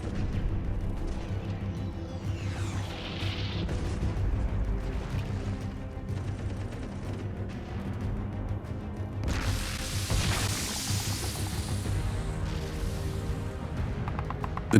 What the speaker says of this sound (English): Now in range, they unleash savage bombardments.